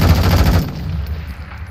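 Gunfire in Warzone 2.0 DMZ, a short loud burst of rapid automatic shots for about half a second, then trailing reverberation and quieter game ambience.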